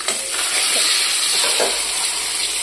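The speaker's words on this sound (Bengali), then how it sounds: "আর এদিকে মাছ ভাজা চলছে রান্না।" Fresh rohu fish fry in a pan with a steady, loud sizzle and crackle that holds throughout, with faint spatters rising over the hiss.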